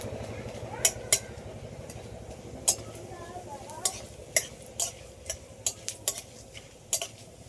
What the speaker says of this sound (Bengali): একটা স্টার নিয়েছি, এটাও দিয়ে দেবো, আর জিরে আর গোলমরিচ, এগুলো সব একসাথে একটু ভালো করে ভেজে নেব।